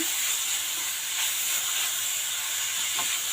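Grated carrots frying with onions in a pan, a steady hiss and sizzle that holds evenly throughout, with faint stirring scrapes.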